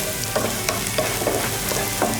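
Onions sautéing in a pan toward golden brown, a constant sizzle with periodic scrapes and stirring strokes, close and steady, no talking.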